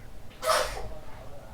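A single sharp sneeze bursts out briefly over a low background hum, fairly close and loud, then fades.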